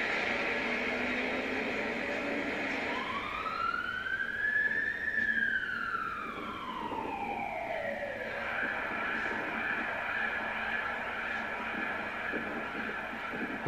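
An emergency vehicle siren wails once in a long rising and falling sweep at Erottaja station in Finland, distant and moderately faint over steady traffic rumble.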